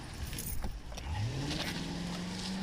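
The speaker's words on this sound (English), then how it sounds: "When the officers were busy talking, she took off with the car." A police car is driven off, its engine rising in a steady climbing whine under rumbling road noise, following some brief clattering near the start.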